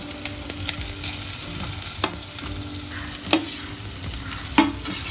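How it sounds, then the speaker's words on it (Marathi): Grated coconut and onion roasting in a pan for a Goan-style monsoon dish, with a steady low sizzle under repeated spatula scrapes and taps against the pan. There is no talk. "आतां सोय घालता त्या वांगडा मिक्स भाजता"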